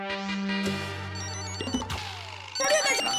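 A mobile phone rings with a sustained, tonal electronic ringtone that shifts pitch partway through, then gives way to a burst of louder mixed sound near the end, heard in a home while workers are busy outside in the housing society.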